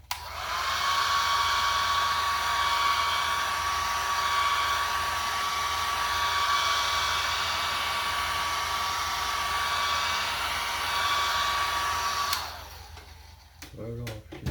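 A hair dryer blows steadily for about twelve seconds to dry acrylic paint on an 11x14 canvas, a loud constant whoosh with a faint whine, then cuts off before some brief handling noises.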